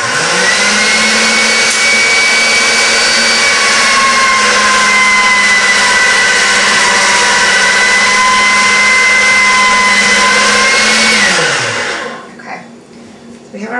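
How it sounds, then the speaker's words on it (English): A fondant rolling machine set to 4 runs as black fondant is rolled out, a loud steady motor whine with a constant hum that holds for about twelve seconds, then winds down and stops. "So we're going to roll it out and we will put the machine on 4."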